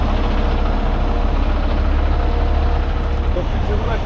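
A heavy tow tractor idles at close range in a steady, loud low rumble, running constantly with no pause while it is hooked to a vehicle axle with chains.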